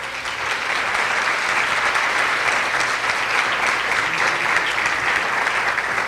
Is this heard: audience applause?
yes